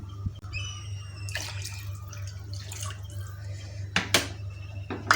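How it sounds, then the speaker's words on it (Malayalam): Water is poured into a pot of home-style rasam in a kitchen, giving soft splashes and trickling drips over a low steady hum, with a few louder splashes near the end. "നമുക്കിനി ആ പാത്രത്തിൽ ഒരു പാത്രം വെള്ളം കൂടി എടുക്കാം"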